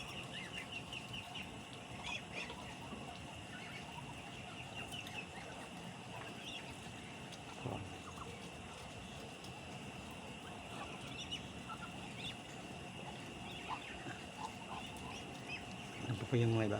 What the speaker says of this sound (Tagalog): dito po tayo sa mga alaga nating bebe